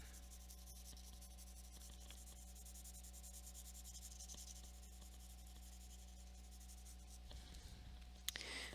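Pencil shading on paper while drawing a mouth gives a very faint, steady scratching and rubbing over a low background hum, with slightly busier strokes near the end.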